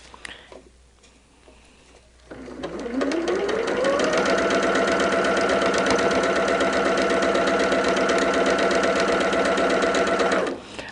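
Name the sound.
sewing machine stitching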